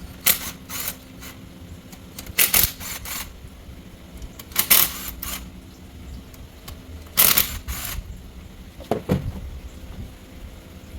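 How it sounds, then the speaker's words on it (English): A ratchet with an E8 Torx socket clicks in several quick bursts while backing out oil cooler housing screws on a 2015 Jeep Cherokee Trailhawk engine, close and sharp with pauses between. "you're going to need to remove 4 torque screws on the housing, and I'm using an E8 torque socket"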